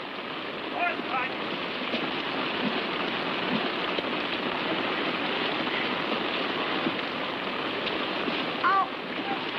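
Steady broadband rain hiss fills the scene throughout, with faint voices and brief shouts rising over the downpour at moments.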